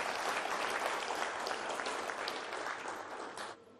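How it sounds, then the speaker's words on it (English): Applause for a team's executive summary at a tech challenge show, dense steady clapping from a crowd at moderate distance that drops off abruptly near the end. "let's have a round of applause for their executive summary"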